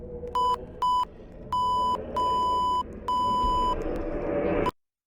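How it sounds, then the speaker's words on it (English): Electronic beeps in Morse code at the end of a maze in the Roblox game Identity Fraud, sounding as a run of clear high tones of short and long lengths over a low ambient hum, which cuts off at the end. "the beeping you hear is Morse code"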